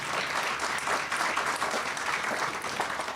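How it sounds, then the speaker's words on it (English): Steady, dense applause from an audience at a corporate identity launch, a continuous wash of clapping that holds at an even level throughout with no speech over it. "Another round of applause for Doc, please."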